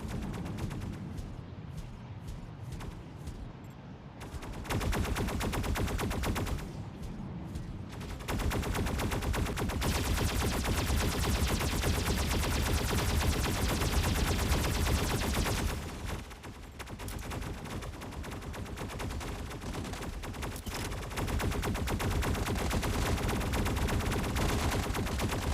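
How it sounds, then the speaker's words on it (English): Gunfire in the mech combat video game Mech Arena, with sustained rapid machine-gun bursts and fusillades that fill nearly the whole stretch, broken by a few short lulls, loud and dense, with no talking. "Why are you shooting?"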